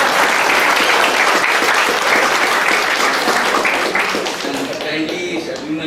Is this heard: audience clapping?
yes